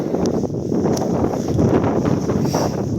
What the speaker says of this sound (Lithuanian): vėjas toks stiprus, kad pučia viską